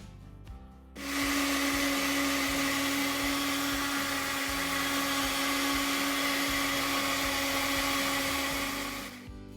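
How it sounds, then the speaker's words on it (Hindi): A blender jar grinds roasted chaat masala spices into fine powder, a loud, steady high whine that starts abruptly after a brief quiet moment and runs continuously until it cuts off near the end. "ब्लेंडर जार को ढक्कन से कवर करके बारीक पीस लेंगे।"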